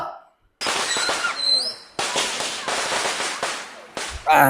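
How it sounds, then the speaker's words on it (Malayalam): Firecrackers burst for the Vishu festival in loud, close crackling volleys of rapid pops, with a whistling rocket and brief gaps between strings. "എനിക്കേ ഇത്രയും പടക്കം പൊട്ടിക്കാൻ അറിയില്ല ഏട്ടാ"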